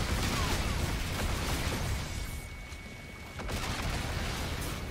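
Pistol gunfire in a frantic multiplayer video game fight, a dense barrage of shots and bursts layered over heavy game noise that stays loud throughout, dipping briefly near the middle before surging back.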